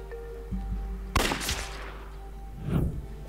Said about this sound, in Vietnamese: Đột nhiên phía sau nghe một tiếng súng nổ, phát hiện bản thân trúng đạn.